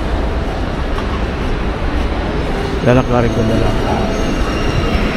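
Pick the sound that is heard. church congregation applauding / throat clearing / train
train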